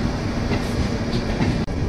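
A train pulls away from Araku railway station, a steady close rumble of wheels with faint clickety-clack running throughout and no voices.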